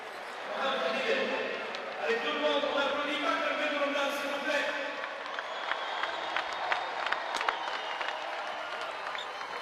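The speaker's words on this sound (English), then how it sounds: "Here's the applause as he leaves the game." Crowd at a FIBA Basketball World Cup 2019 African qualifier game between Tunisia and Angola, applauding as a player leaves the court; steady clapping and cheering throughout, with a commentator talking over it.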